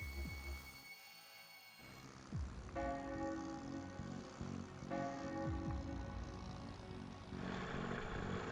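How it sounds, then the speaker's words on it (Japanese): Bell tolling in The Legend of Heroes: Trails to Azure video game. Several resonant strikes ring out at spaced intervals, and each lingers over a soft ambient background. "鐘の音が。"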